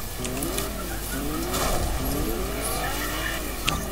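A car in Fortnite drives and skids, engine note sweeping up and down while tires squeal across the surface, fairly close, with faint background game sounds and no talking.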